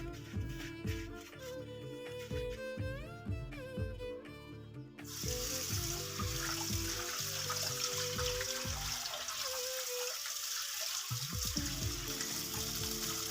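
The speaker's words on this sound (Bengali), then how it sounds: "পরিষ্কার করার পর যতক্ষণ ওগুলা থেকে পরিষ্কার পানি বের না হয় ততক্ষণ এগুলো ধুতে হবে" Clay cooking pots being rinsed and scrubbed with water, with salt rubbed inside: steady splashing and running water throughout, with tonal background music over the first few seconds and a brief lull near the end.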